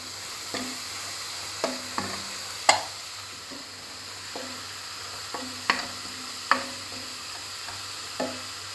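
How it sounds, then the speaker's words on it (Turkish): Greens being stirred and sautéed in a pan over browned minced meat, with a steady low sizzle and several sharp utensil scrapes and clicks against the pan at irregular intervals, close and clear with no talking. "Yeşilliklerimi biraz kavuruyorum."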